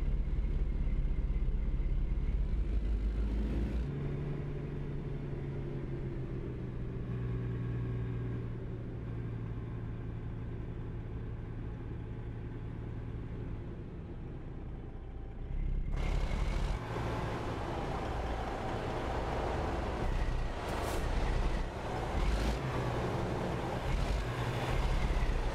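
A truck engine drones steadily in fifth gear in American Truck Simulator, a low rumbling hum with wind noise that shifts abruptly midway into a brighter, louder road roar.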